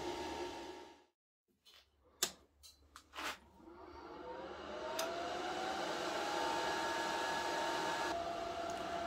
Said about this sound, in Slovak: a ventilátory sa opäť rozbehnú